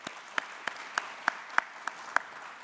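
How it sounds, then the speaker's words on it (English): Applause for representatives at the Sedibeng SMME Conference in October 2021 comes as sharp, evenly spaced claps, about three per second, crisp and close over a faint room hush. "Shall we give them a good round of applause,"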